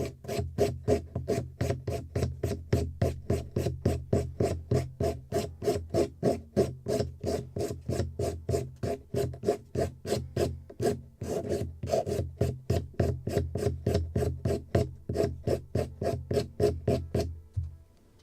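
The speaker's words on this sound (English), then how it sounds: "the top of the mast I need to scrape even more because it's thicker in this way" A wooden block scrapes along the mast of a wooden model ship, a Muscongus Bay lobster smack kit, in steady rhythmic rasping strokes repeated many times, close and continuous with no talk.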